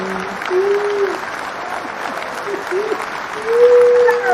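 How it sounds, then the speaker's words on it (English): An audience at a business talk applauds a speaker arriving on stage. The clapping is moderate and steady, with a voice briefly heard over it. "I love the applause"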